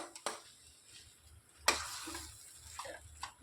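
Cooked rice is added to a tomato mixture in a pan and stirred, giving a faint sizzle with a few sharp scraping and clinking stirs close by.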